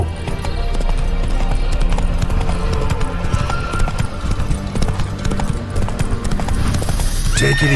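In The Witcher 3, the horse Roach gallops with rapid, steady hoofbeats throughout, close and prominent, followed by a short whinny at the very end.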